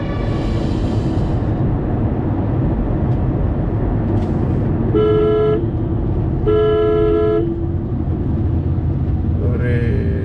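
Heavy morning road traffic at Nagole metro in Hyderabad, a loud constant engine roar with two sustained car horn blasts in the middle and a shorter honk at the end.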